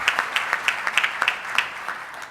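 Light applause from a ceremony audience at the opening of a regional forum in Panama, thin and scattered claps with a few sharper hand strikes standing out, moderately distant and steady.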